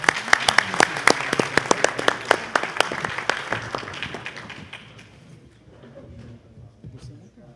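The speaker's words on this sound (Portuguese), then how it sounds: "peço uma salva de palmas para o ministro Saldanha" Audience applause at a legal debate session, a dense burst of clapping from a seated crowd that thins out and fades after about four seconds, leaving quieter room noise and a little background speech.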